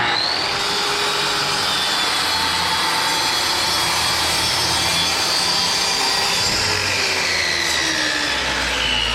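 A power saw cuts through plywood for a coffee table bottom, a loud, continuous high whining rasp of the blade biting into the sheet, heard close and unbroken for the whole stretch.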